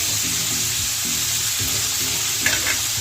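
Green beans and vegetable stalks fry in hot oil in a pan for a Bengali cumin fish curry, giving a loud, dense sizzle. Repeated rhythmic stirring strokes run through it, with a brief clatter near the end.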